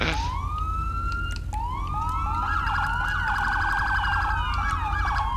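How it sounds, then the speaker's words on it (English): A loud electronic police siren in a video game wails and rises, then switches to a rapid warbling yelp, steady and close with no talking. "How you do the other siren?"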